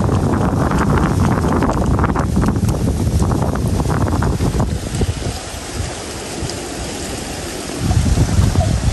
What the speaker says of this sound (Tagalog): Grabe po ngayon, mahangin eh.